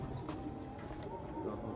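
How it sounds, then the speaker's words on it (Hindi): Pigeons coo softly in low, rolling murmurs as racing birds arrive and settle at their loft in Sialkot, Punjab, faint and close with light background noise. "अठवां कबूतर आ गया जी।"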